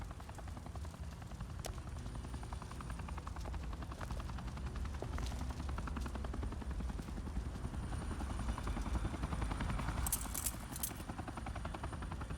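Military helicopter rotor thumping steadily and close in a Batman video game, a continuous loud drone with scattered sharp gunfire cracks and brief high electronic chirps near the end.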